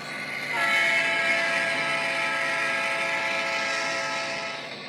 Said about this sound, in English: The B99 train then meets the L794 train.